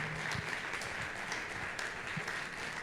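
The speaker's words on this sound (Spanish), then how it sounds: "Dale un aplauso al Señor por la palabra." A church congregation at a Sunday service claps together in dense, continuous applause, spread evenly across the short span at moderate loudness with no voices over it.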